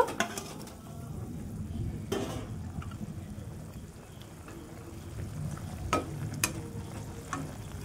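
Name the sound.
fried tilapia fish pieces simmering in spicy curry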